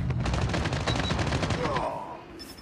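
Rapid automatic gunfire in Call of Duty Mobile, a fast close burst of repeated shots that thins out and fades near the end.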